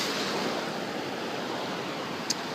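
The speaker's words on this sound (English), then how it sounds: "I'm going to put my toes in the ocean" Ocean surf breaking on a Gulf of Mexico beach, a steady broad wash of waves heard close and continuous, with light wind noise and no talking.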